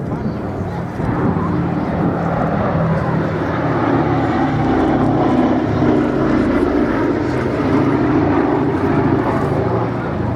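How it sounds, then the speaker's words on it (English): The B-17 Flying Fortress 'Sally B' flies at the Duxford airshow. Its four piston engines give a loud, droning, throbbing roar that holds steady throughout, with a voice talking over it. "the sole airworthy B-17 left in Europe"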